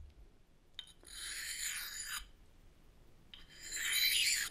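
A steel ice auger blade being sharpened with a file, bevel side down, producing two long, close, raspy scraping strokes separated by a pause, with faint clicks of handling before the first stroke.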